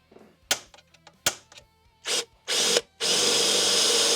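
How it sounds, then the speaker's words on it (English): A power drill fires in short bursts, a few quick sharp whirs, then longer runs as the bit bites in and keeps spinning, close and clear. "I'm going to go with this R drill bit."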